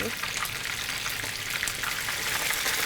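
Pitha frying in a pan crackles with a loud, continuous sizzle that holds steady for a few seconds, with no talking over it.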